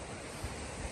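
Ocean surf rolls at an Australian beach in a continuous, loud wash of broadband noise with a slight wind rumble over the microphone, lasting about a second with no voices.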